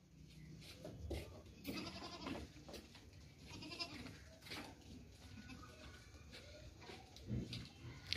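Well-fed breeding goats bleating repeatedly at close range on a farm, scattered overlapping calls over faint background noise and occasional talk.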